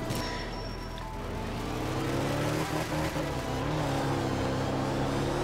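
A Subaru Impreza WRC rally car in art of rally racing on a wet Finnish stage, its engine droning steadily and then rising in pitch as it accelerates, with loose gravel hiss underneath.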